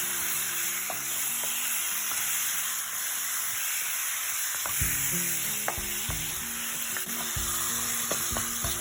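Mutton and masala stirred in a hot pan for a spicy pepper mutton roast: a constant close sizzle and hiss under repeated scraping strokes and light knocks of the utensil.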